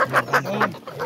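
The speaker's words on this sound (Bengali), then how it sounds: "এখানে আমরা দেখতে পাচ্ছি প্রচুর মুরগি" Chickens at a village poultry market in Nazirpur Bazar, Natore, give a quick run of four or five short, close clucks over a low market hum.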